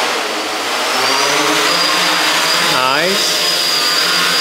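Motors of an XProHeli XP2 quadcopter running on a Naza V2 controller, a loud steady whir that climbs in pitch as throttle is raised, with a brief spoken word over it.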